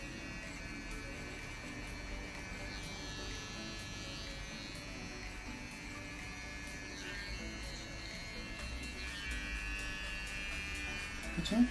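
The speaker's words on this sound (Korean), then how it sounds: "자, 이제 마지막 깔끔하게 면도만." An electric shaver finishing a short haircut, a steady faint buzz running throughout with small shifts as the clippers move, with no clear talking.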